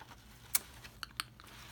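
Typing on a computer keyboard, a few sparse key clicks spaced irregularly with one sharper tap early and two lighter ones later, quiet and close with no talking.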